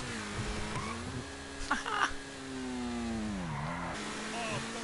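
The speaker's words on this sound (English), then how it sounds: "Driving in a fucking Lamborghini." A Lamborghini engine drones steadily with rising and falling revs, a brief louder flurry midway, and the car's hum carries throughout without any talk.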